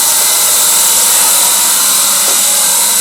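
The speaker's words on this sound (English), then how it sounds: "I'm waiting for my compressor to stop right now" An air compressor runs at a steady level before shutting off, a loud, close, continuous hissing roar with no breaks over a few seconds.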